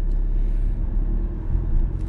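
A car pulls away and accelerates hard in second gear at full throttle, with a loud, close engine rumble that swells and dips unevenly over about two seconds.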